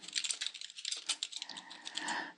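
Someone types text on a computer keyboard, a quick, close clatter of light key taps in uneven bursts, with no talking.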